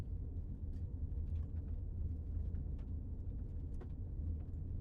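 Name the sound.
car driving on a road, engine and road rumble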